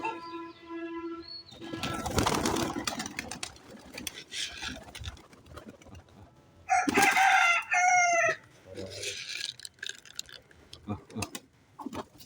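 A rooster near a flock of feeding pigeons crows loudly once in the middle, with other bird calls and clucks before it and people talking around it.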